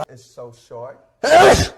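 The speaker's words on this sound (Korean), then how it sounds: "재채기 한 거야?" A single loud, close sneeze bursts out at the end, following a few short spoken words.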